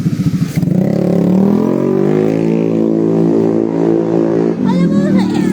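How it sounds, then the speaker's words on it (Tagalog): A loud motorcycle engine drones steadily close by, with a sustained low rumbling tone that holds for several seconds, while voices talk over it. "Nakakarindi yung motor niya."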